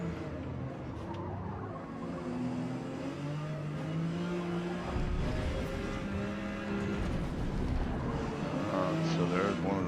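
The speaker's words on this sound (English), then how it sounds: "So there's one of those Ferrari Formula One cars that flew past me like I wasn't even there" A Ferrari Formula One car screams past in the Forza Motorsport racing game at Mid-Ohio, its engine note rising and falling over the steady drone of the player's Porsche 956, with speech in the background.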